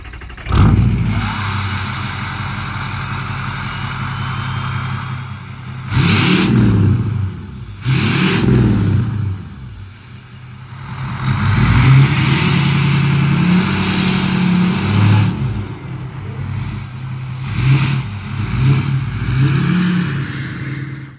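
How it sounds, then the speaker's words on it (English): A 6.0 diesel pickup truck engine fitted with a long elbow exhaust tip idles and is revved repeatedly, loud and close, with several rising bursts and a deep rumbling idle between them. "crank this thing up, get a couple before clips"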